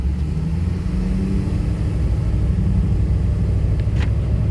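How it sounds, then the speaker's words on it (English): A deleted 6.7L diesel engine in a 2016 Ford F-350 Super Duty dually runs steadily close by, giving a deep, even rumble with a low throb and no revving. "It's just a standard deleted truck sound."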